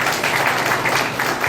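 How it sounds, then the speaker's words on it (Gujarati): Crowd applause welcoming a guest at a peace committee meeting held before Muharram in Kheda, Nadiad, a dense continuous clapping that stays loud throughout. "એક વખત જોરદાર તાળીઓના ગણગણાટથી સ્વાગત કરીએ છીએ"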